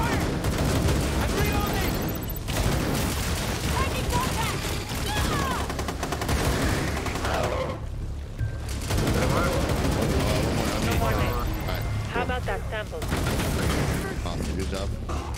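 Gunfire in the co-op shooter Rainbow Six Extraction, with dense, continuous shots and bursts running through most of the stretch and pausing briefly near the middle, mixed with game effects and players talking.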